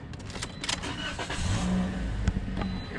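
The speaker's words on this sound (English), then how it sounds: "They're starting the car up for the first time." A rental car's engine cranks and catches nearby, a short starter churn followed by a rising idle hum that settles into a steady low drone, with some clatter and movement around it.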